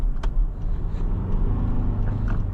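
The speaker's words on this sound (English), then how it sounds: "For a 4-cylinder turbo, it sounds pretty good. It has like a deep tone to it." Cabin of a 2024 Toyota Tacoma Limited with a 4-cylinder turbo engine and synthesized engine sound: a steady, deep low rumble with road noise while driving, continuous and moderately loud.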